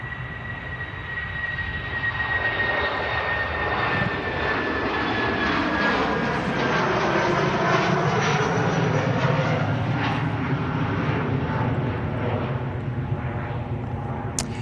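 A British Airways Airbus A319 rotates off runway 23R at Manchester Airport, its jet engines giving a steady, loud roar with a high whine that slowly fades as the aircraft climbs away.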